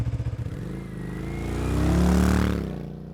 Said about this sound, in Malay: Aku hidupkan enjin motosikal dan teruskan perjalanan.